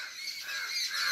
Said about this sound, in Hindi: यहाँ पे पूरा चिड़ियों का चहचहाने की आवाज़ आ रही है